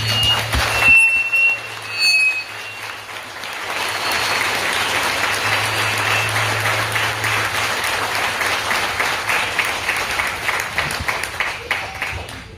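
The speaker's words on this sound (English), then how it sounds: "you deserve a round of applause" An audience of dealership employees applauds at an outdoor ribbon cutting ceremony for Bunnin Chevrolet of Santa Paula, a steady, sustained crowd clapping lasting about nine seconds after a short stretch of other sound, with a low hum beneath.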